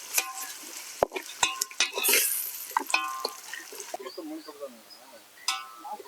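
Ginger garlic paste stirred and sautéed in a pan with softened onions for chicken gravy: scraping spoon strokes and clinks against the pan over a soft sizzle, close and irregular, with a voice talking at times.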